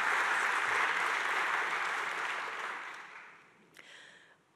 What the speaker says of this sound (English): Round of applause for the sponsors.